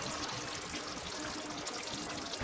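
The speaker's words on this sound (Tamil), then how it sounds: "இந்த ஜாரை நான் நல்லா அலசி ஊற்றிக்கிறேன்." Ground peanut paste pours from a rinsed grinder jar into chicken salna gravy for a Madurai banana-leaf parotta dish, giving a steady close wet trickle and splash with no talking.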